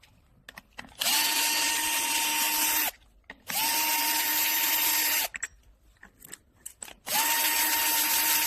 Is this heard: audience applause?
no